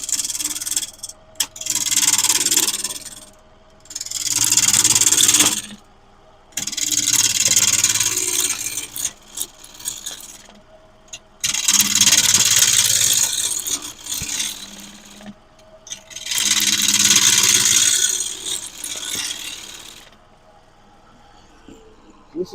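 Seasoned wood spins on a lathe as a spindle gouge cuts it, giving bursts of bright, hissing, rasping shear of several seconds each, separated by short pauses.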